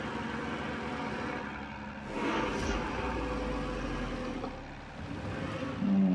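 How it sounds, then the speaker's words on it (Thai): Torpedo bomber aircraft in World of Warships drone past, a low, whirring engine hum that swells and fades around the middle and lingers faintly under the game's background sound. "เครื่องบินตอร์ปิโดมาแล้ว"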